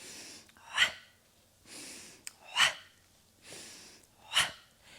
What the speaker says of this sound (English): Let's add a breath.